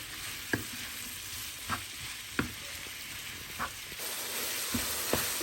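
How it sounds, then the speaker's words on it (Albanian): Beef lungs and onions fry in a pan with a steady, even sizzle, broken by a few sharp clinks of a utensil stirring against the pan. "I kemi ka verdis edhe mushkrit e lopës me qep."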